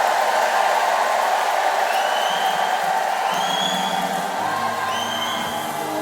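Church congregation cheering and ululating in praise, a dense steady roar of voices with high trilling ululations rising above it throughout.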